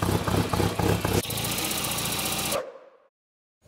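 Modified Volvo 940 estate engine idling while warming up, a close, steady mid-pitched rumble with a slight knocking pulse, cutting off abruptly near the end.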